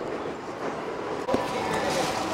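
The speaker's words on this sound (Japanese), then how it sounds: "電車も頻繁にやってきます。" A train passing near Tennoji station in Osaka, a steady rumble of rail traffic heard from the street with a brief bump midway, continuous and moderately loud.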